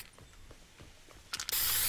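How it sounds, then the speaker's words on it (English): A Fortnite spray tagged onto the ground in-game, a short hissing spray burst near the end following soft mechanical clicks and low game ambience. "Like pick your favorite spray and spray on the ground."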